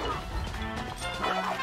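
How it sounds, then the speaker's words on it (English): A wooden stick weapon smashing in Zelda: Tears of the Kingdom, a brief crunching crash among game effects and background music, short and fairly muffled. "Smashed our stick, but that means we can take that one now"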